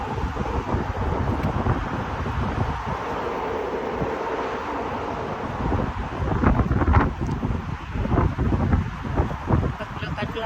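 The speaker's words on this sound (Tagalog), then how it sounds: "Alam mo, ang hangin, ang lakas." Strong, cold outdoor wind at a flower festival, roaring and buffeting against the microphone in a continuous rush that swells into heavier gusts partway through, with muffled talking mixed in.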